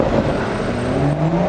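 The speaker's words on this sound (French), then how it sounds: "Encore une M2." A BMW M2 passes close by as a steady engine drone that swells gently, loud and continuous for a second and a half with no voices.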